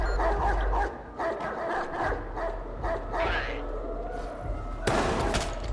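A dog barks in the video game Watch Dogs 2, a few sharp barks standing out over a busy game soundscape with a sudden loud burst near the end.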